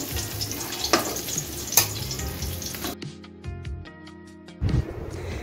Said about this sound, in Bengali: আমি হালকা করে এপাশ ওপাশ করে একটু ভেজে নেব।